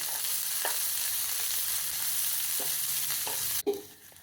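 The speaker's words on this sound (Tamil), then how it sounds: "ஒரு ஆனியன், ஆனியன் வதங்கட்டும்" Onion with ginger sautés in a pan, a dense steady sizzle with a few soft stirring taps, close up, cutting off abruptly near the end with a final thud.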